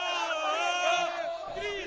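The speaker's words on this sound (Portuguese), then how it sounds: "A torcida do São Paulo sempre muito animada, né?" São Paulo football fans in a stadium chant and yell together in a dense, sustained roar of massed voices, heard at a distance.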